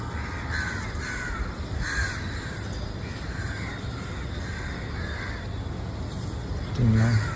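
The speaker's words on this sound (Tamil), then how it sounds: "ஆஹா, காக்காக்களையும் பார்க்கலாம்." Crows caw repeatedly at a moderate distance, a series of harsh calls over a low steady hum of traffic.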